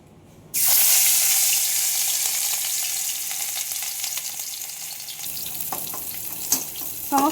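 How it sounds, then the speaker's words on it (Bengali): Katla fish pieces drop into hot oil in a wok, setting off a sudden loud hiss that settles into a steady close sizzle, with small pops and spatters as more pieces go in. "এদিকে আমার তেল গরম হয়ে গেছে। এক এক করে মাছগুলো ছেড়ে দিব।"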